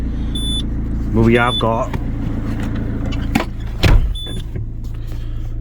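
A 15-year-old Peugeot with ABS, power steering and engine management faults idles steadily right after starting up, with a low continuous engine hum running under a man's speech and a few brief mechanical whirs and clicks nearby.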